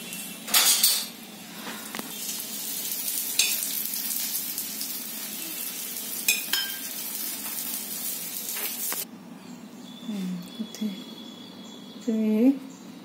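A loosely rolled onion paratha hisses on a hot tawa, a steady broadband sizzle for about nine seconds before it drops away to quieter cooking noise with a voice speaking briefly near the end.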